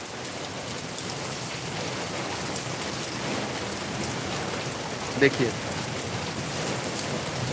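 Heavy monsoon rain in Darbhanga pours steadily onto the ground in a dense, even hiss of drops, with a short spoken word and a brief knock partway through.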